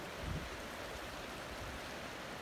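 A stream in the North Cascades flows in a steady, broadband rush of water, continuous and fairly soft throughout with no voices over it.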